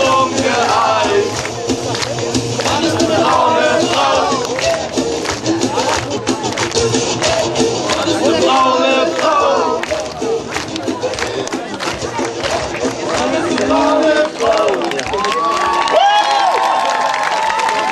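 A German school-prank event crowd makes steady, loud noise, rhythmic clapping and cheering blending into dense chatter and shouts throughout, with a brief whistle-like tone near the end.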